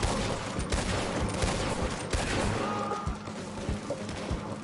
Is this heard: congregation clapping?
no